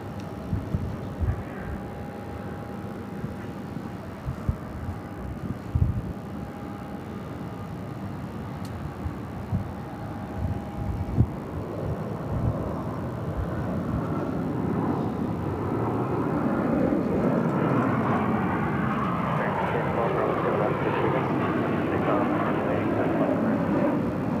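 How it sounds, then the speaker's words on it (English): An Airbus A330 takes off from runway 7 left on the south side of Phoenix airport, a low broadband jet roar building steadily and swelling louder through the second half, with a distant rumbling backdrop and no voices. "the A330, number 3 for takeoff here on the south side"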